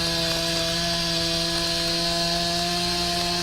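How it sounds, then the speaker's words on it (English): Chainsaw cutting storm debris after a hurricane in Puerto Rico, a close, steady high-pitched engine drone with strong tonal whine held level for several seconds, no voices heard. "The sound of chainsaws could be heard across the island"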